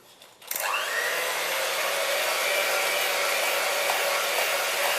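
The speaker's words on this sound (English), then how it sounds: "Just mix it until it becomes really moussey." An electric mixer whirs steadily and loudly through a bowl of egg yolks and sugar, beating them until mousse-like, starting abruptly after a short quiet moment and running without pause.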